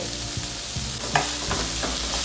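Sliced onions and green chilies sautéing in oil in a pan, a steady sizzle broken by several scraping stirs of a spoon against the pan, close and loud with no talking.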